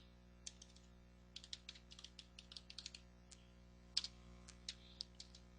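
Quick, irregular clicks of a computer keyboard as C# code is typed, soft and fairly close, in short bursts with brief pauses over a low steady hum.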